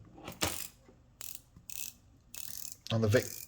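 Invicta Pro Diver watch bezel turned by hand, a few separate bursts of crisp ratcheting clicks spaced out with short pauses between, close and fairly quiet.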